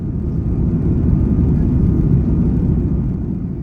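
Steady low roar inside the cabin of an AirAsia X Airbus A330 cruising at 41,000 feet, a constant rumbling drone that holds at an even level throughout with no talk.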